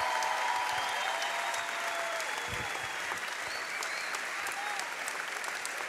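Audience applause at a Latin American political forum on democratic politics and citizen power, a steady, dense wash of many hands clapping sustained throughout at moderate distance, without talk over it.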